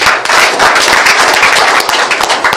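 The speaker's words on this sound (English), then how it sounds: "Another round of applause for him." A crowd claps and applauds for a Nigerian political speaker at a post-election press event, the dense clapping loud and sustained throughout with no talk over it.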